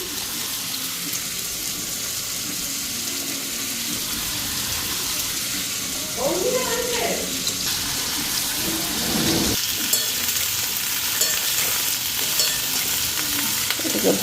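Cauliflower florets fry in oil and are stirred in a pan, giving a continuous close sizzle with scraping and clattering of the spoon, louder and busier toward the end, with no speech.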